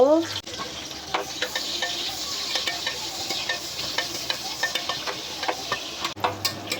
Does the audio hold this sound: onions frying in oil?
yes